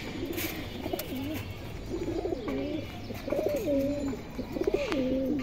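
Indian kaldom highflyer pigeons coo in a repeated rolling, throaty rhythm, several phrases in a row heard close over a steady background hum.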